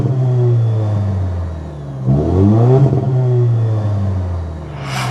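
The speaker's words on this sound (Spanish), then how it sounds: "tenemos los dos terminales de tubo de escape redondos, especiales para esta versión, TRD. Suena bastante bien." A 2025 Toyota Tacoma i-Force Max TRD Pro pickup with round dual exhaust tips idles with a deep exhaust rumble, then revs up sharply and settles back down, loud and close.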